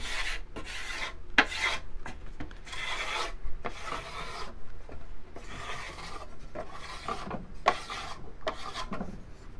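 A razor planer shaves balsa wood for an RC plane kit in a run of about a dozen short, rhythmic rasping strokes, each a close, dry scrape with brief pauses in between.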